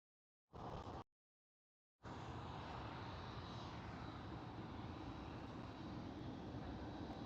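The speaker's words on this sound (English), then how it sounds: "KLM Cityhopper E195 E2." KLM Cityhopper Embraer E195-E2 airliner at Schiphol, a steady broadband jet engine roar that holds loud and continuous after a brief burst and a short gap, heard from an outdoor spotting position.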